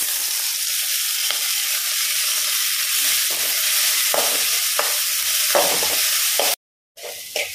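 Onion and tomatoes fry in a pan for a squid curry, giving a loud, steady sizzle with stirring scrapes, cut off abruptly near the end.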